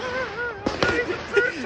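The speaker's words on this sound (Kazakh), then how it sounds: "2020 жаңа жыл, салют." New Year 2020 fireworks salute going off at a distance, a few sharp pops and crackles breaking over a steady background hum, while a voice talks through it.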